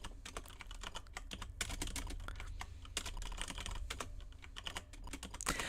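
Rapid clicking keystrokes on a French AZERTY computer keyboard, close and continuous, with an uneven rhythm throughout.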